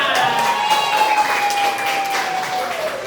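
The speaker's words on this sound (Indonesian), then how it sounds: "Kita tepuk tangan dulu buat kita semua." A class of students claps together at the end of a lesson in a classroom, steady broadband applause lasting the whole stretch with a tonal voice-like line drawn out over it.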